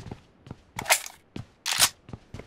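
Gunfire in the mobile battle royale game PUBG Mobile, a handful of sharp, separated shots in an uneven rhythm, two of them louder and fuller than the rest, with quiet gaps in between.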